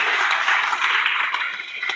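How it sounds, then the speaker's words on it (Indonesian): A church congregation applauds during a worship service, a dense, steady patter of many hands clapping that carries for the whole two seconds without a break. "Berikan tepuk tangan untuk Tuhan."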